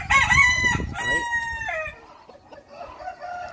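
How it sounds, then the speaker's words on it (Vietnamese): A young white bantam rooster with a long tail, still growing new feathers, crows loudly and close up in one long drawn-out call, followed by quieter clucking and farmyard background. "Gáy liên tục nhá."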